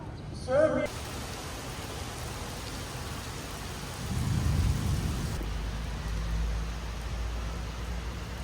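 Steady rain falls through a thunderstorm at a mosque in Kuala Lumpur: a continuous broad hiss with a deeper low rumble swelling midway, and a brief voice near the start.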